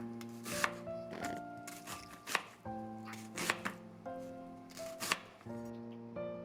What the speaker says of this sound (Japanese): 玉ねぎを半分に切ってから玉ねぎの軸を取っていきます。 くし形に切ります。